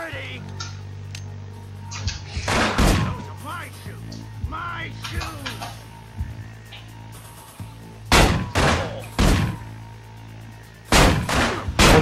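Shotgun blasts in the stealth video game Manhunt, several loud broadband bursts coming in separate bursts toward the end, with a person talking over the earlier part and a low game soundtrack droning underneath.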